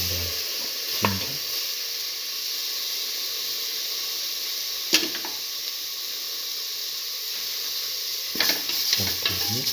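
Ginger sizzles steadily in a hot pan, a constant bright frying hiss broken by a few sharp scrapes and clinks as it is stirred, close and alone.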